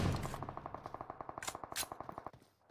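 Rapid automatic gunfire in a PUBG-style battle royale game, a fast regular burst of about twenty sharp shots over two seconds, fairly close, with a couple of louder cracks mixed in before it stops.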